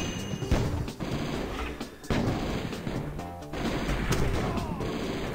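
Bombs going off in the Battalion Commander 2 game: a dense run of loud blasts and crashing impacts, several sharp hits layered over continuous rumbling battle noise.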